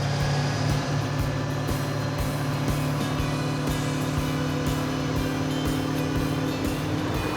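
Muscle truck cruising on the road in Lancaster, California, its engine giving a steady droning hum with a low rumble underneath, continuous and fairly loud from inside the vehicle, with no talking.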